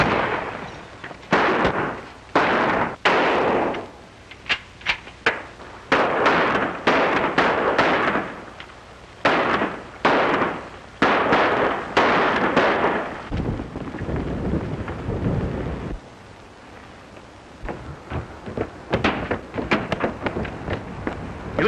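Gunfire in a 1938 western film gunfight, a rapid series of loud sharp shots with short gaps between bursts, trailing off into scattered later shots.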